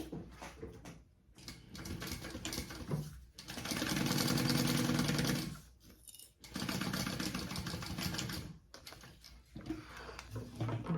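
A home sewing machine basting a pocket's raw edge shut, running in several bursts of rapid, even stitching separated by brief pauses, close and clear.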